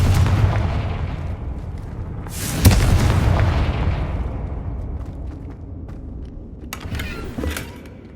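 A Confringo blasting spell explodes in the video game Hogwarts Legacy, giving a deep booming blast that swells and rumbles away over several seconds, followed by scattered cracking debris sounds.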